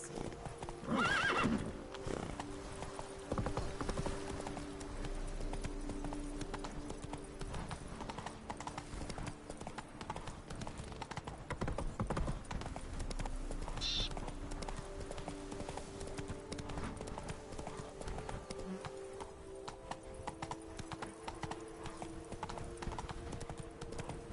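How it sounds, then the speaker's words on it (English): Horse hooves clip-clopping in The Witcher 3, a steady rhythmic trot that runs throughout, with a brief neigh near the start and faint voices in the background. "Come on, Roach"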